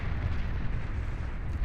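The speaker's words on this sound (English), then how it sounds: "Cyan Commander has detonated in his own base" A commander unit self-destructing in its own base in the Beyond All Reason strategy game, a deep rumbling explosion that rolls on as a low, sustained roar at moderate volume, with no speech.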